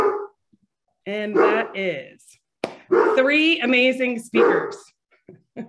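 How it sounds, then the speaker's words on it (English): A dog barks in the background of a home setting during an online conference, short barks sounding behind someone speaking clearly close to the microphone. "I am going to do my best to intro you while my dog is barking"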